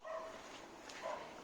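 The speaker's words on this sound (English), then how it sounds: "they've been barking the whole time I've been gone. I can hear them barking." Dogs bark faintly in the distance, two short muffled barks about a second apart, far off and quiet.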